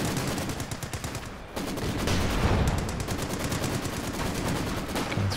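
Bren machine guns fire in a Company of Heroes 2 battle, a loud sustained rapid rattle of bursts with overlapping shots and distant explosions, almost without pause.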